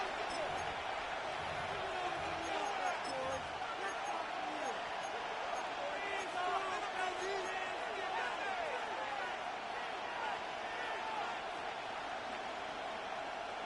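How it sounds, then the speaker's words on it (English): Stadium crowd at an NFL game between the Jets and Bills roars steadily as a dense wall of cheering, constant and loud throughout, with an announcer's voice running over it. "This crowd turning up the decibel level."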